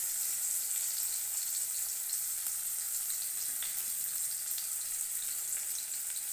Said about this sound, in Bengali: আমি একটু পেঁয়াজ ভাজার মধ্যে টমেটো কুচি দিয়ে দিব।